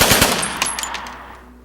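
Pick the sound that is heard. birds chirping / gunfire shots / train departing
gunfire shots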